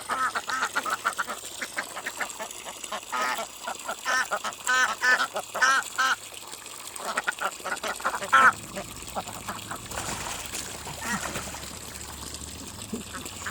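Ducks quack in bursts over several seconds, fairly close, with splashing water and some voices mixed in.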